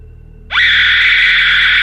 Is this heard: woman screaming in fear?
yes